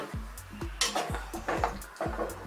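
Sticky pork ribs being tossed with nutty sesame oil in a dish, with repeated wet clacks and scrapes of utensils against the bowl in a steady mixing rhythm, close and moderately loud over background music.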